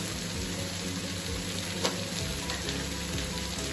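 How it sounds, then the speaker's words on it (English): Vegetables fry with ginger and spices in a hot pan, a loud unbroken sizzle with a single brief scrape of tossing near the middle, close up and without speech. "Tossing them all around to make sure all my spices are"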